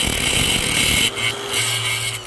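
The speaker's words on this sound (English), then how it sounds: "So I'll just take the grinder" An angle grinder cuts off bolts protruding beneath an RV slideout during a repair on a Beaver RV, a loud steady whine that dips and resumes with a lower tone partway through.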